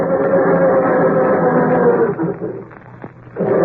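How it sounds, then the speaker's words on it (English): A car motor turning over slowly and heavily on a frosty morning, stiff cold oil dragging the starter into a low, labored grinding drone that falters near the end, close and loud. "how does your motor sound when you try to start it on these frosty mornings?"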